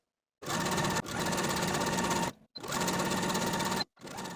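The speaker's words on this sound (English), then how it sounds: "Now I'm going to take it to my sewing machine and edge stitch from top to bottom close to this inner fold." Sewing machine edge stitching the side seams of a wrap-and-tie pant skirt, running in three steady whirring bursts separated by brief stops, close and loud with no talking.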